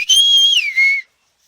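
A single whistled call imitating the name Maria in a Spanish-style calling whistle, a bright clear tone with a rising and falling contour, a short gap, then a final sustained note, loud and close with no talk.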